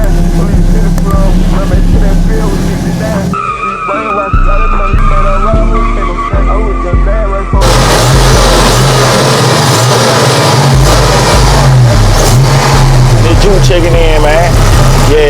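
A turbocharged 1987 Buick Regal Grand National drives hard, its engine roaring loudly as the tires screech and skid. The car noise runs continuously under a loud musical backing.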